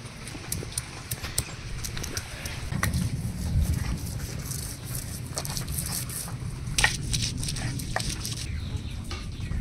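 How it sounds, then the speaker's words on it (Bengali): Spices being ground by hand on a stone grinding slab: quiet, rhythmic scraping and crushing strokes repeating at an even pace, fairly close, with no talking. "মশলাগুলো সব শিলে বেটে নেব।"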